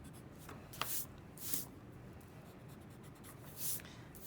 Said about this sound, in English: you can go back with an eraser and just erase those pencil lines